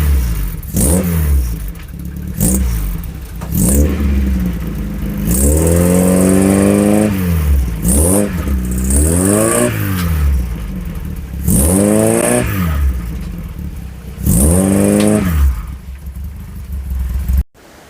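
A modified Skoda car engine revs repeatedly in rising and falling surges, labouring as it struggles up ramps, loud and close with no talking.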